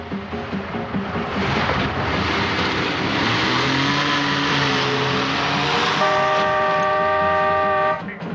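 A borrowed car speeds away in a getaway drive, its engine droning loud and steady while tonal whines rise and hold near the end before cutting off abruptly.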